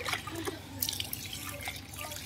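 Water is poured and splashes with irregular trickling and dripping, a moderately close, continuous sound with no voices over it.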